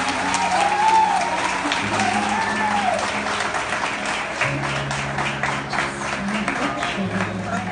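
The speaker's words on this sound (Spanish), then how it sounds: "Un fuerte aplauso." A crowd applauds steadily at a quinceañera birthday party as the girl's parents are introduced. The dense clapping is fairly loud, with background music tones and some voices mixed in.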